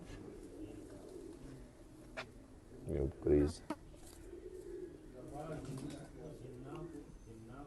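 A pigeon coos in a few low, throaty bursts under ongoing quiet talk, with faint rustling around it.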